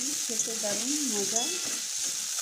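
Boiled eggs frying in oil to a reddish brown give a steady close sizzle, with someone speaking briefly over it.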